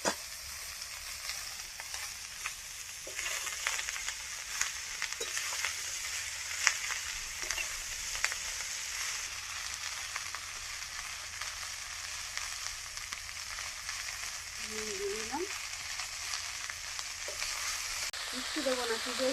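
Pea greens (kalai shak) going into a pan with frying potato and eggplant, a steady sizzle and crackle of oil running throughout at moderate volume, with a few stirring scrapes near the end and no talking.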